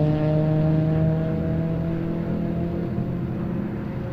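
A race car from a GTA 5 time attack session holds a loud, steady engine drone that sinks slightly in pitch as it carries on, with no voices.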